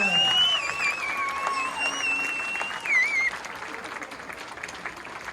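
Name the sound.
applause for beginner band kids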